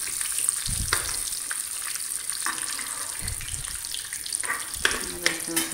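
Fenugreek and carom seeds sizzle and crackle in hot oil in a pan while being stirred for an arbi (taro root) curry, with scraping stir strokes now and then and no talk.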